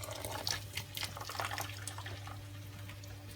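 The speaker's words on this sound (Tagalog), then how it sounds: "Ito na yung noodles natin, kailangan natin tanggalan ng tubig." Water drained off cooked soba noodles, a steady splashing pour of liquid with a few drips, fairly faint, over a constant low hum, with no talk.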